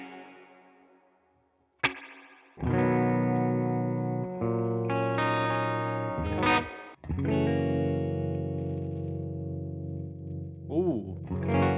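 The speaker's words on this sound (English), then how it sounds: "Let's throw on some reverb." Distorted electric guitar chords ring out through a Tone King Imperial tri-tube preamp, swelling and washing with heavy reverb and echo, separated by short gaps, with brief warbling effect sweeps.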